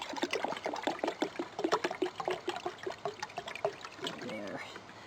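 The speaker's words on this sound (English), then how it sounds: "I'm just going to pour it in." Tap water pours into a cup in a steady, bubbling trickle, close and fairly quiet, with gurgling splashes throughout and a soft rising fill sound near the end.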